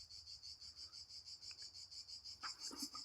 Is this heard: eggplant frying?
no